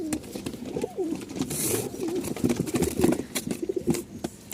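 Soft, repeated cooing of Giribaz pigeons close by, layered over one another with a brief burst of wing flutter partway through.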